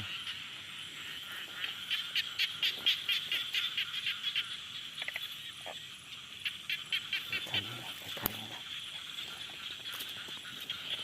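A tree frog calls loudly at night in Huai Pla Yai, repeating rapid pulsed croaks in bursts over steady nighttime insect and frog chorus, close and dominant throughout.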